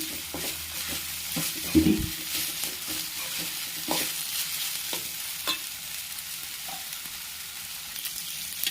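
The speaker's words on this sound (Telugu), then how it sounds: "అల్లం పేస్ట్ వేసుకుని బాగా వేగాలి నూనెలోనే" Ginger paste fries in hot oil with onions for a chicken curry, giving a steady close sizzle broken by the scrape of a spoon being stirred through the pan at irregular intervals.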